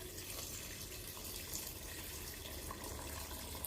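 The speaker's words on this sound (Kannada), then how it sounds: "ಸ್ವಲ್ಪ ನೀರು ಹಾಕಿಬಿಟ್ಟು" Water is poured over overnight-soaked rajma beans for cooking, a faint, steady splashing rush that runs without pause.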